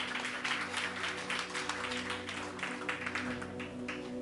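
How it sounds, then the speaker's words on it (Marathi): A church congregation claps together in praise, a rhythmic, fairly faint applause of many hands over a sustained electronic hum. "जरा जोरदार टाळ्या प्रभूच्या गौरवासाठी"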